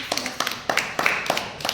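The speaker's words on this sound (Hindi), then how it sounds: "तालियां मारो।" Children in a classroom clap in short, quick bursts, a string of sharp claps repeating at an uneven rhythm, with voices mixed in.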